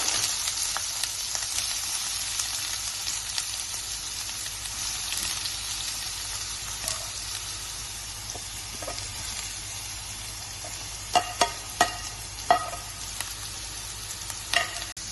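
Onion and dried chillies sizzle in a pan of hot oil for a Kerala-style ladies finger curd pachadi, a steady close frying hiss joined near the end by a few sharp clinks of a utensil.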